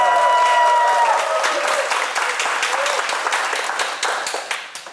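An audience breaks into warm, dense applause that starts loud and full, then gradually thins to scattered claps as it fades.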